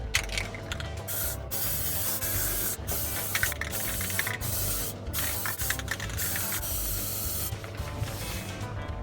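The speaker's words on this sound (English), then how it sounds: "Now we're going to head over to the spray booth and give it all a nice coat of paint." A steady, loud hiss of spray painting a speaker lamp in a spray booth runs continuously, with brief pauses and bursts as the spray gun is triggered on and off.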